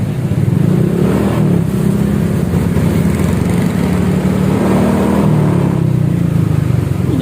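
A Honda Vario scooter with an aftermarket exhaust revs steadily at high RPM, loud and close, a continuous droning buzz that holds level with a slight dip and rise near the end.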